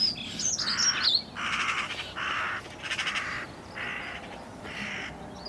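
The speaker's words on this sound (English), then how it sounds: "all the commotion the magpies were making" Magpies chatter and make a commotion outdoors, a run of harsh, rattling calls in repeated bursts, fairly distant and moderately loud over steady background noise, with a few sharper squawks near the start.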